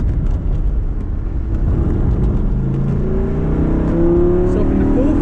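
A Lamborghini Gallardo LP560-4 engine pulls hard on a track, a loud, continuous roar with rising revs heard from inside the car, a voice talking over it.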